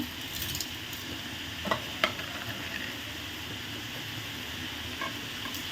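Vegetables with curry leaves and rock salt sauté in a pan, giving a steady soft sizzle under intermittent scraping and stirring clinks from a spatula, nearby and moderately loud, with no talking.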